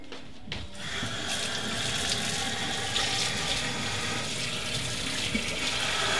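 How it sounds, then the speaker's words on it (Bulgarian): Hot water runs steadily from a kitchen tap into the sink, a constant hissing gush that starts after a brief quiet moment and stays even throughout, with no voices. "пуснал съм гореща вода и я чакам да стане студена"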